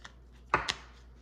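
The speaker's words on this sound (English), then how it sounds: "Ooh, 2 cards fell out." Tarot cards being shuffled, with two cards falling out: a sharp papery slap followed quickly by a second softer flick, close and fairly quiet against a near-silent room.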